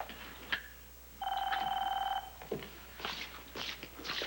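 A telephone bell rings in one steady burst of about a second, loud and close, set between scattered knocks and shuffling movement in an indoor room.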